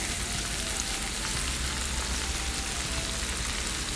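Onions hit a hot pan while Italian flatiron steak rolls are being made, giving a loud, continuous, even sizzle with no voices over it.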